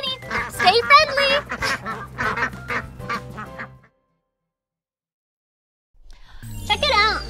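Cartoon ducks quacking in a children's educational show, a run of rapid, chattering quacks mixed with voice-like sounds, then a few seconds of silence before more quacking starts up.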